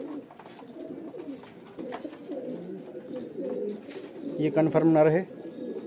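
A pigeon coos several times, low and close, alongside someone speaking throughout; the cooing swells loudest near the end.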